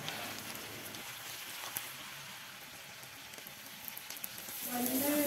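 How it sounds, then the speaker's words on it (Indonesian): Sliced shallots and garlic fry in oil in a pan, a steady close sizzle and crackle that swells louder near the end, with no talk. "kita goreng bawang merah bawang putihnya, Bun, sampai layu aja"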